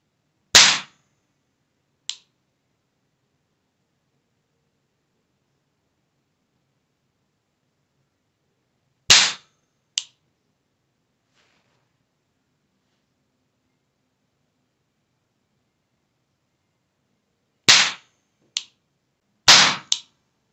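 A metal toy pistol firing caps: a few sharp, isolated cracks spaced well apart across long silences, some shots followed quickly by a second smaller snap, close and loud.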